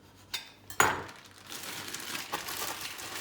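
Plastic sauce bag being handled and snipped at one corner in a home kitchen: a sharp crinkle, a crisp cut-like snap, then soft ongoing rustling of the plastic, close and fairly quiet.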